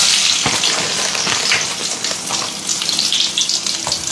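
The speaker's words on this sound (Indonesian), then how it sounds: "ini sekarang saya mau menggoreng kentang." Potatoes fry in hot oil with a steady, dense sizzle and crackle that runs throughout, close and loud, with occasional sharper pops.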